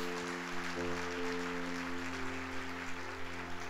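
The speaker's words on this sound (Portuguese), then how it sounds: "dê um aplauso ao Senhor" Congregation applauding during a church service, a steady wash of clapping over a sustained organ or keyboard chord that continues underneath.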